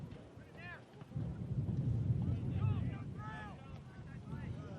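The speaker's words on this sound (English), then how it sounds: "You can hear just how windy it is tonight on our microphones." Wind buffets the microphone at a night outdoor boys' soccer match, a low, rumbling roar that swells and stays constant while a commentator talks over it.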